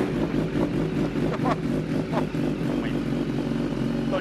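A Speed Rider motorcycle engine idling steadily and close by, a loud continuous low rumble with slight pulses, under faint talking.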